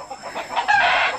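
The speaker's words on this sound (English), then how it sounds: "It's loads of roosters around here." Roosters crowing in the early morning around a village near the Borneo jungle, one rising crow with clucking hens mixed in, fairly close and moderately loud with no talking.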